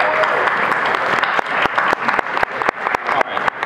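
Convention crowd at a fan panel applauding loudly, dense clapping with sharp individual hand claps standing out near the microphone and a few whoops within the crowd noise.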